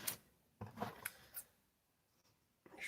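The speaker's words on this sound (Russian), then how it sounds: "Еще ножницами надо поработать." Scissors make a few short, crisp snips in quick succession with quiet pauses between them, soft and close, and no one speaks.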